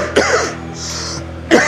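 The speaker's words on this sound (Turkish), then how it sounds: "Ne zamandır öksürüyorsun?" A patient coughs in a hospital drama scene, with two harsh, close coughs about a second apart and a breathy wheeze between them.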